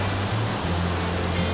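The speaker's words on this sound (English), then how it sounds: "A lot of water coming through here." Monsoon floodwater rushes through a downtown Bombay street in a steady, loud, broadband roar with no breaks, close by and covering everything else.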